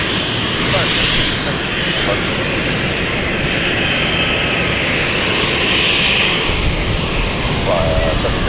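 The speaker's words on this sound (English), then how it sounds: "Heading out with the E190. Again, this should be a really wet takeoff." An Embraer E190 jet takes off from a wet runway at London City Airport, its loud, steady engine roar dominating throughout, with a voice heard underneath.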